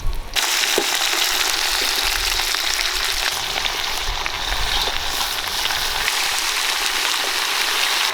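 Chicken deep frying in hot oil outdoors in a village kitchen, a loud, steady crackling sizzle with popping bubbles that runs unbroken from start to finish, close and with no talking.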